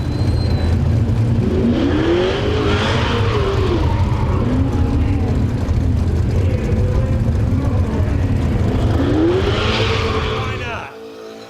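Late model race cars at the Waterford Speedbowl roar loudly and continuously on the final lap of the 100-lap finale, engine pitch rising and falling through the turns, with crowd and track noise and a sudden drop-off at the end.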